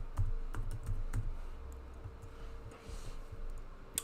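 Rapid keystrokes on a computer keyboard as a search term is entered, close and fairly quiet, with a burst of clicks early on that thins into sparser taps.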